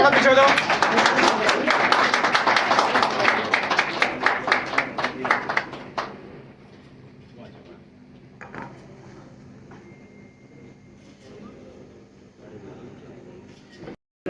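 A crowd in Gurugram gives loud applause welcoming Rajya Sabha MP Kartikeya Sharma: dense, vigorous clapping close by for several seconds that abruptly dies away, leaving a quieter hall with a few scattered claps and thumps.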